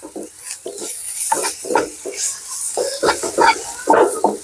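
Onion roasting in a pan with Kashmiri chilli, pepper powder, garam masala and coriander, a spoon stirring and scraping in short repeated strokes, close and fairly loud over a faint sizzle, with no voices.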